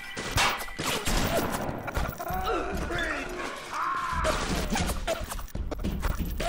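Dense, chaotic gunfire in the video game Moronshock: repeated sharp shots and bursts crowd the scene, mixed with clanking and distorted game effects in a busy firefight.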